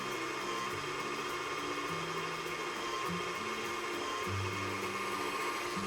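An electric mixer whips butter and marshmallow cream into frosting, a steady loud motor whir with shifting low hum tones and faint beater rattle, running continuously with no voices.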